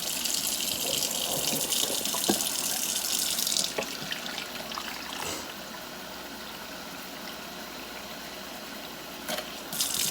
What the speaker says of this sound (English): Then I'm going to fill it up with lukewarm water.